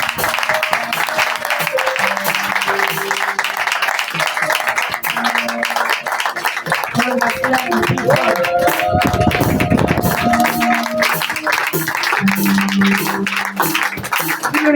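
A church congregation claps and acclaims the Lord in loud, sustained applause, with cheering voices and music running under it throughout.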